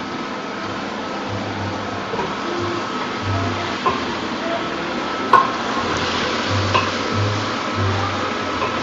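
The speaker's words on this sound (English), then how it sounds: "you just coat it in the flour and you fry them like in olive oil" Flour-coated brinjals frying in olive oil give a steady, even sizzle throughout, with a low hum beneath it and one brief clink partway through, with no voices.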